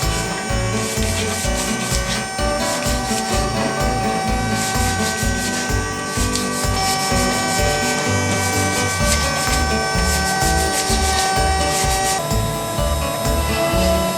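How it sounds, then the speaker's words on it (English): PVC pipe being roughed by hand sanding before painting, a continuous rhythmic scraping rub with fast back-and-forth strokes, loud and close, with no voices. "Now I'm roughing the PVC, prepping it for paint."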